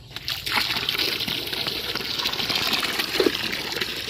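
Water runs steadily from a tap or hose while freshly harvested pechay is rinsed, a continuous gushing and splashing wash with a few small splatters, fairly close and without talk.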